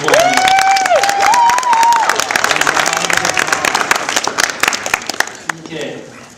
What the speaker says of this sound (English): Let's give Preston a round of applause.